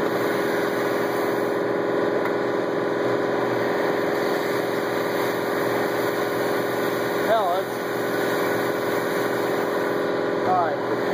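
A sander motor runs on a Harbor Freight router speed control at medium speed, a steady droning hum with a brief strained dip partway through, while someone talks over it.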